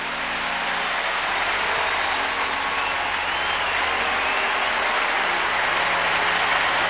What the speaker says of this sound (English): Give Jesus a hand clap.